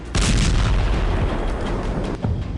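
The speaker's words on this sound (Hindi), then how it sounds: "धमाके का पहला वीडियो" A huge explosion from a strike on a military site in Syria bursts suddenly, then a heavy, roaring rumble that stays loud for a couple of seconds before another thump near the end.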